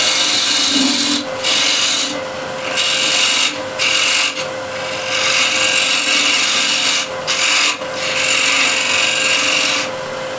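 A hand scraper shaping walnut wood for a bowl, rhythmic rasping strokes close up with brief pauses between passes, loud and steady with no talking.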